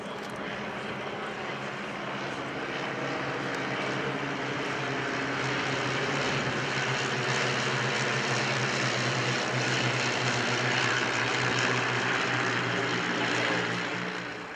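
Formation of de Havilland DH 82 Tiger Moth biplanes at the Shoreham air display, a steady propeller-engine drone that swells gradually as the aircraft fly past, moderately loud with no talking.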